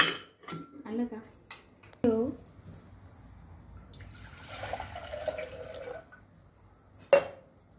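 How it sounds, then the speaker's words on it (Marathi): Water splashes and drips in a pot as lentils are rinsed by hand, with faint clinks of a vessel, soft and close, in short bursts separated by quiet pauses. "आपली डाळ धुवून तयार झालेली आहे।"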